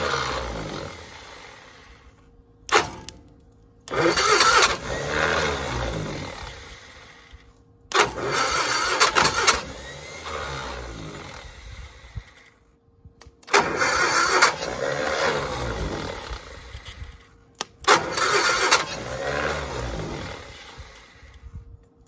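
A 1960 Onan engine starting for the first time in many years: four or five loud, close bursts of cranking and rough running, separated by short silent pauses, with no talk.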